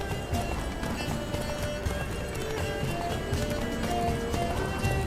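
Horse hooves gallop in The Witcher 3, a steady rapid clip-clop beating close and loud under a continuous bed of game music and ambience.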